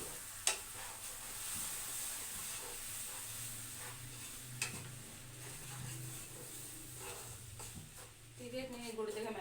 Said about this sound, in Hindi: इतने गुड़ देखिए मेल्ट होना शुरू हो गया हमारा।